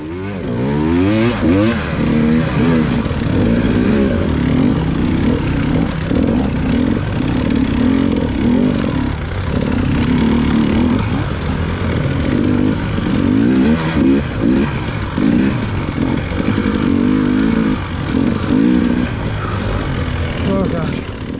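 Dirt bike engine revving hard through mud and ruts during a hare scramble race, loud and close with constant throttle surges, under ongoing rider talk.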